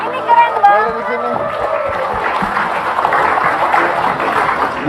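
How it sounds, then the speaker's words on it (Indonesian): A studio audience on an Indonesian television talk show breaks into sustained applause and cheering, loud and close, after an opening of speech and a few exclamations. "Sekarang kita tepuk tangan dong."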